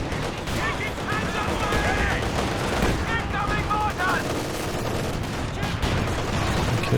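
Incendiary artillery barrage in the World War II strategy game Company of Heroes 2, a dense continuous rumble of explosions and crackling fire filling the whole stretch, with game voice calls and commentary talk layered over it.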